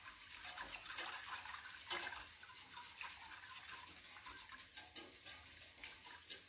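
A spoon stirring a minced meat and grated carrot mixture in a pan over low heat, soft repeated scraping strokes over a gentle continuous sizzle, faint and close.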